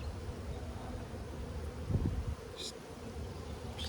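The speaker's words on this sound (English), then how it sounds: "It's a big colony of bees." A large honeybee colony hums at an open hive frame, a low, continuous droning buzz close to the listener, with a few faint rustles and clicks over it.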